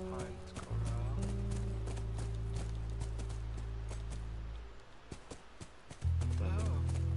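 Horse hooves clip-clop steadily through a video game set in The Last of Us, a loud continuous rhythmic trot under an engine-like drone and overlapping talk, fading briefly near the end before resuming.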